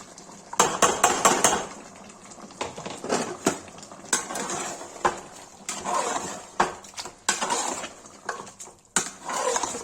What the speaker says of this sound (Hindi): गाइस अब टमाटर डाल देंगे।